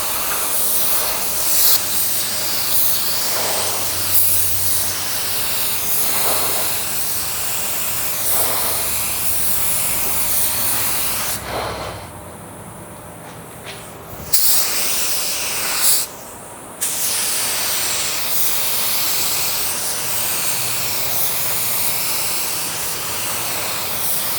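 A Drizzle Pro paint gun sprays a second base coat with a loud, continuous close-up hiss that pauses briefly twice, then carries on with no talking.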